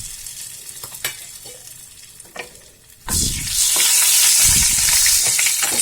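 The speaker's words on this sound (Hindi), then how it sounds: "अब इसमें मैं एक बड़ी इलायची, दालचीनी, लौंग, छोटी इलायची इसमें डाल दूंगी।" Whole black cardamom, cinnamon, cloves and green cardamom drop into hot oil for a shahi paneer base, setting off a sudden loud, steady sizzle that follows a few quieter clinks and scrapes, with no talking.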